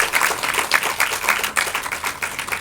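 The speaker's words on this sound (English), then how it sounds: "we can give a big round of applause" An audience claps at a book release event in Pune, producing a brief burst of steady, fairly close applause that lasts just under three seconds with no talking over it.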